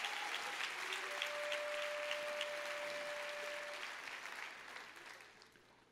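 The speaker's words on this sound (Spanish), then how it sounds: "Dale fuerte ese aplauso al que vive." Church congregation applauding loudly and steadily during a worship service, a dense wash of clapping that holds for several seconds and then begins to fade, with a faint sustained tone running underneath.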